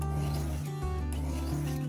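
A knife blade drawn through a Victorinox Dual pull-through sharpener, making a continuous gritty rasping scrape with slight shifts between strokes, close and fairly loud.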